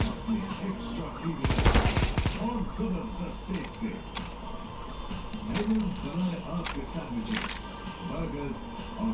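Rapid SMG bursts from a CS:GO competitive match, one loud, dense volley early on followed by scattered sharper shots, heard alongside game background noise and a talking voice.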